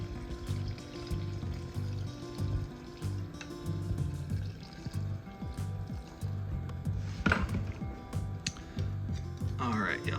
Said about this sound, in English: Add a little more water to it right here.